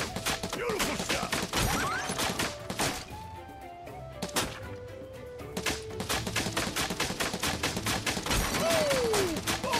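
Gunshots ring out during Final Fantasy VII Rebirth, sharp rapid bursts and single cracks scattered across the stretch, with a quieter gap in the middle and swooping game effects at points.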